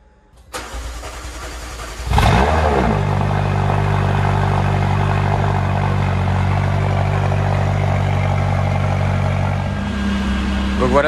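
A McLaren sports car engine cranks briefly and fires, flaring loudly before settling into a steady, strong idle that carries on to the end, with some talk over it.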